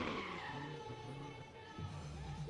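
Drift car tires skid and squeal at a drift pit while the engine roars steadily, loud and close with a continuous screeching texture and faint background voices.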